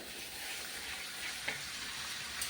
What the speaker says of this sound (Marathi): त्यानंतर तेल हलकसं तापल्यानंतर हे जे आपण गरे फणसाचे चिरून घेतले ते सगळे मी ह्याच्यामध्ये घालून घेणार आहे